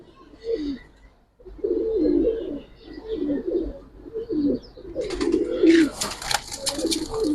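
Giribaz and coloured pigeons, including young birds, coo in a series of soft, low, throaty calls close by, with a burst of chirping and fluttering near the end and a little speech in the background.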